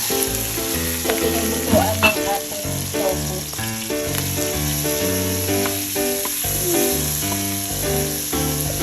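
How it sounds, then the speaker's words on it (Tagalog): Marinated chicken frying in a pan on a home stove, giving a steady, loud, continuous sizzle and crackle that runs the whole time, with occasional sharper pops and no talking. "meron tayo ditong marinated na chicken. So ito muna ang ating lutuin."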